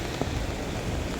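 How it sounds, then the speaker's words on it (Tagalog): Steady rain pours down on a dark street near a traffic light, a broad even hiss of drops falling close by with no pause and no talk over it. "Hindi na ito ambon, kundi ulan."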